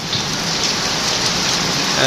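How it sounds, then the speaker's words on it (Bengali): Heavy rain pours down in Faridpur district, a dense, continuous hiss of drops on surfaces, loud and close throughout. "ফরিদপুর জেলায় প্রচুর পরিমাণ বৃষ্টি নামতেছে"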